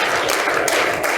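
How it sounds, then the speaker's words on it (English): An audience at a live training session in Vegas claps together in a dense, continuous burst of close, loud applause. "give a little clap right here"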